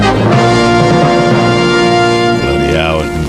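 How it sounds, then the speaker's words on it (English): A brass band plays a short, loud, sustained jingle with full harmonic chords, and a brief rising flourish near the end. "Another band. Now brass band."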